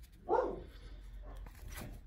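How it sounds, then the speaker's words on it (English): A single dog bark sounds out, one brief muffled woof from nearby followed by quieter indistinct household noise. "Yep, and there's my dog."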